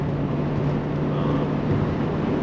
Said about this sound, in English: Listen to the engine, it's quiet, it's not like a US V8.